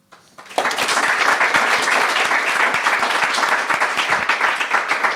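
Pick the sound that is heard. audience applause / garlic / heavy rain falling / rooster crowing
audience applause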